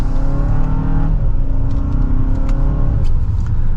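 A 2024 Hyundai Santa Fe Limited accelerates hard in sport mode, second gear, its engine note climbing steadily in pitch before a brief shift-like dip, loud and sustained from inside the cabin with no talk.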